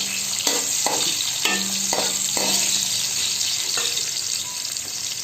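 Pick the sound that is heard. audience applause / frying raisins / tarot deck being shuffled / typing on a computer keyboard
frying raisins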